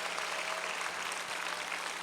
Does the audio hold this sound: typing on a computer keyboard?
no